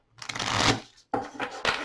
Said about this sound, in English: As you can hear when I'm shuffling, they do get a good snap to them.